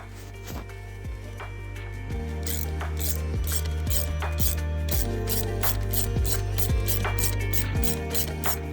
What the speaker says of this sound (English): after that you can take this puller and pull it out upwards.